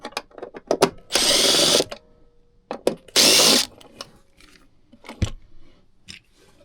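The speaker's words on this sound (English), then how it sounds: "So I'm just unscrewing that, putting a little Loctite around the thread." A power drill unscrews a bolt on a vehicle spindle in two loud sustained bursts of about half a second each, separated by clicks, taps and small handling knocks.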